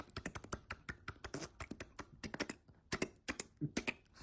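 A person imitating a computer keyboard with their voice, producing a rapid, irregular run of short clicky taps that stays close and moderately loud for about four seconds, with no words spoken.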